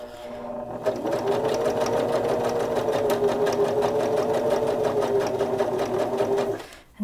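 A sewing machine stitches a Kindle sleeve up close, its needle chattering in a fast, steady mechanical rhythm for several seconds before stopping abruptly.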